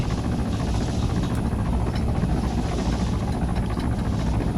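Rotor thump and turbine roar of a helicopter gunship flying in the Arma 3 video game, loud and steady from start to finish with no voices.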